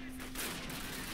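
Gunfire from the video game Call of Duty crackles in a quick burst of shots in a trench battle with tanks nearby, fairly faint and busy with overlapping blasts.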